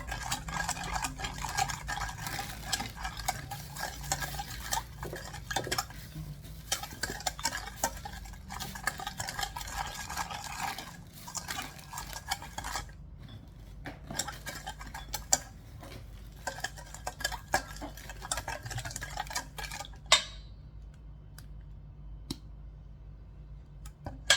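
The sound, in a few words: stirring chilli powder into fried pork belly salad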